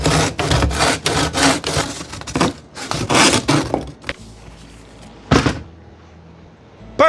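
Several quick rasping saw strokes trim an extra piece off a board at a makerspace workbench, a burst of loud rhythmic cutting, then a pause and a couple of isolated knocks and scrapes.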